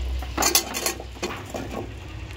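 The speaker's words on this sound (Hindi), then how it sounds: "अब इसे मैं अच्छे से मिक्स कर देती हूँ ताकि बालूशाही के अंदर तक चाशनी चले जाए।" Balushahi is mixed into sugar syrup in a large kadhai, with a spoon clinking and scraping against the metal pan in a few bright knocks and clatters, close and alone.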